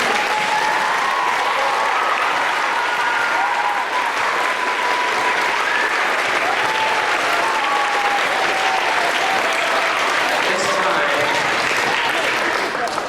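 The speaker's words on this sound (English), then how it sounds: "Let's give a big Festus Intermediate round of applause for our honor." Sustained applause from a large crowd fills the room at a school veterans' assembly, a dense, steady clatter of clapping that holds evenly for the whole stretch, with occasional cheers.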